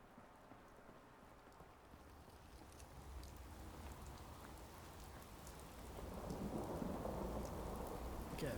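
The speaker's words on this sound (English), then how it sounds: "Just a nice, soothing rainstorm." Steady rain pours down with rolling thunder in a Fallout 4 VR thunderstorm, a dense continuous hiss that swells louder toward the end, with no voices.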